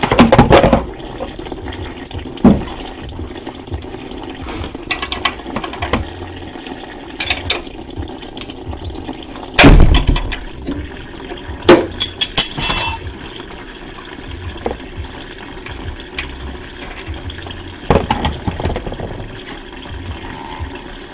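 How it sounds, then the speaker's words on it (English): Engine oil and fluids from an Outback engine with a broken timing belt drain into a pan, a steady trickling pour with scattered clanks and knocks near the work, with no talk. "Now that the fluids are draining"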